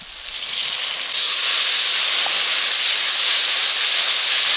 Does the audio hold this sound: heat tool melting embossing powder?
no